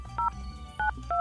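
A telephone keypad sounds three short dial tones while a prank call is placed from Delhi to Pakistan, spaced unevenly over a low background hum.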